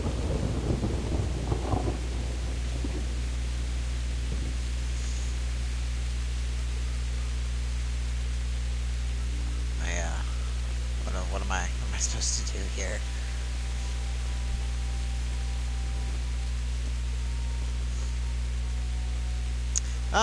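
Steady rain hisses over the grounds of a medieval castle at night in Kingdom Come: Deliverance, a constant wash of noise with low rumbling beneath, a few brief voices and footsteps breaking through partway.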